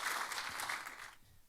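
Applause from a church congregation welcoming a pastor at a Wednesday service, a dense wash of clapping that fades out near the end, with no talk over it.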